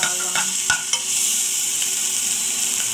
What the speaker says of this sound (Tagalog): sugay-sugayin lang siya para mag-brown, mag-golden brown yung sibuyas at saka yung bawang